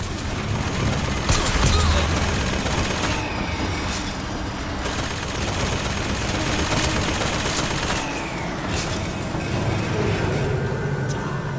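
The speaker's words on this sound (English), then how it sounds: "Get him, little machine gun bot." A small machine gun bot firing in Bioshock Infinite, dense continuous rattling fire sustained for several seconds amid loud, busy combat noise with no quiet gaps.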